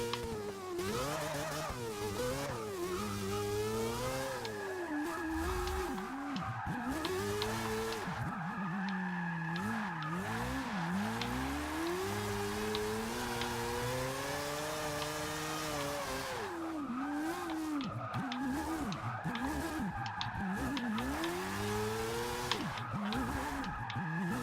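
A drift car in Forza 6 wails through a long run of revving and shifting engine notes, with near-continuous tire squeal sliding up and down in pitch, loud and steady throughout with no talk.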